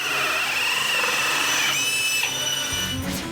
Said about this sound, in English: Did you hear the sound of the drill as it made the plug hole?